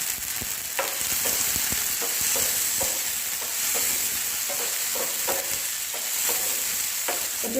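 Halved tomatoes fry in a hot pan for a sesame seed chutney, a steady sizzle broken by repeated stirring scrapes and taps, close and fairly loud, with no talking.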